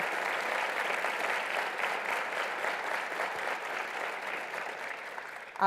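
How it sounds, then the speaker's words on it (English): An audience at a Medal of Honor forum keeps up thick, sustained applause at an even, loud level, with a faint crowd murmur mixed in and a brief sharp bump at the very end. "Yes, clap."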